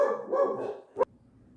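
Dogs barking close by, a cluster of barks followed by one sharp, louder bark, then quiet.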